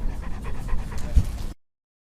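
A therapy dog at an airport pants rapidly and close by, a quick rhythmic huffing that stops abruptly after about a second and a half.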